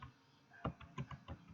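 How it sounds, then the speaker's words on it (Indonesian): Several quick keystrokes on a computer keyboard, a short irregular burst of soft clicks heard close up in a quiet room with no voices. "Kalau kita ketik judul sini kayak tadi nama Johnny tuh,"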